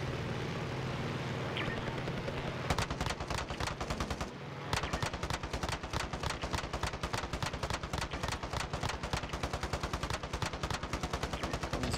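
Rapid bursts of heavy cannon fire in a video game, starting as scattered shots and then turning into a long, loud, fast volley of repeated blasts close up, with no talking.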